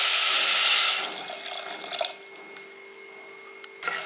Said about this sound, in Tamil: இப்போ தண்ணி வந்து 2 கப் ஊற்றுங்க.